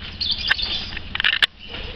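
Many colour-mutation birds on a bird farm in Bantul chirp and tweet together, busy overlapping calls with sharp bright notes over a low background hum.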